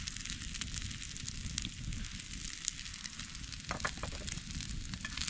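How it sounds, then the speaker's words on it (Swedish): Kolbullar, Swedish pork-and-flour pancakes, sizzling in a long-handled pan outdoors in winter, a continuous dense crackling fry with no one speaking. "Nu börjar de här fräsa på lite."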